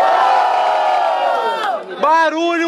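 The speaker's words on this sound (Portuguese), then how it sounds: "Barulho irmão pra cima, Mano Gu" Loud crowd at a Brazilian freestyle rap battle in a hip-hop battle league's second round, roaring and cheering continuously, then whooping shouts rising near the end as a host's voice cuts in.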